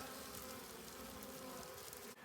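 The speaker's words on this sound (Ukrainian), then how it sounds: "Бжілка облітується." Honeybees fly around a nucleus hive and a winter hive house on a warm January day, a continuous soft buzzing drone that ends with a brief bump.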